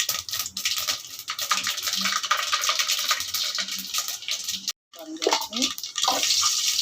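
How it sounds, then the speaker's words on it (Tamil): Mustard seeds and fenugreek splutter in hot oil in a kadai at the start of a dried-fish curry, a dense, crackling hiss with scattered pops that cuts out briefly near the end. "முதல்ல கடாய் வச்சு எண்ணெய் ஊற்றியாச்சு. இப்போ கடுகு போட்டோம்"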